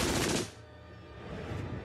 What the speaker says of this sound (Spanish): La MG-42 era tan rápida que no se podían escuchar los disparos por separado.